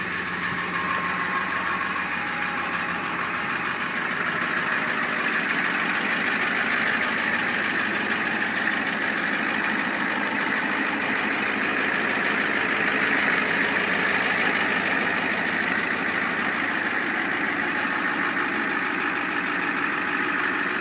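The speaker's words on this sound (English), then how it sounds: "I love the sound of these old IDI motors like this." A 1990 Ford F-450 pickup's old IDI turbo diesel idles steadily and close, a continuous even rumble with a faint whine on top, running without a break and with no voices.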